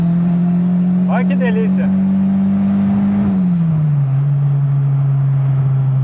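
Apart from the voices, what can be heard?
Volkswagen Voyage turbo 200 hp car accelerating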